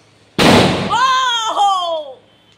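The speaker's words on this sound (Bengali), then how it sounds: "বাজি ফাটানো কিন্তু কমপ্লিট।" A single loud firework burst at a home celebration cracks sharply, then a whistling, descending tonal trail lingers for about a second before fading, close and alone without talk.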